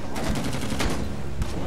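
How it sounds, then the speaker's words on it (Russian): Rapid gunfire in the Vietnam War video game Rising Storm 2: Vietnam: loud, dense bursts of automatic shots overlapping, with a few sharper cracks standing out. "Кто в меня стреляет?"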